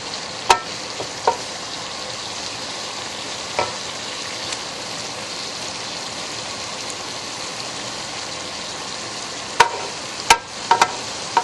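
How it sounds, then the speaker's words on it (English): Shrimp sizzle and fry in a hot pan for shrimp fried rice, a steady bright crackle lasting throughout, with occasional sharp clicks and scrapes of a utensil against the pan and no talking. "So there you see our shrimp is cooking"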